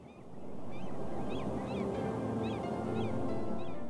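Seagulls in an animated film give repeated short calls at a steady pace over a rushing, wind-like background of sea noise, with no one talking.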